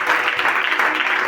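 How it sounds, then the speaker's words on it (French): Brief, dense applause from a congregation at a Pentecost church service, a steady wash of clapping with nothing else over it. "Acclamons Jésus"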